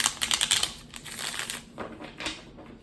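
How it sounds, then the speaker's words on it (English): Tarot cards shuffle in quick riffling bursts, a rapid flutter of crisp clicks followed by softer sliding and a few slower snaps. "let me just finish shuffling the cards"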